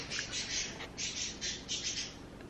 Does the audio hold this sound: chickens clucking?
no